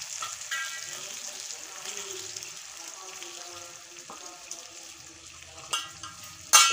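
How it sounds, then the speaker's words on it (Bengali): A little water goes into a pan of cooking guava pickle, setting off a soft, steady sizzle, with a few sharp metallic clinks of utensils near the end. "এখন আমি সামান্য একটু জল দিয়ে দিচ্ছি।"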